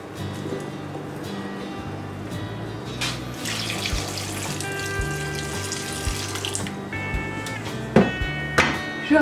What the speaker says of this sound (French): je peux enlever l'élastique et les rincer à l'eau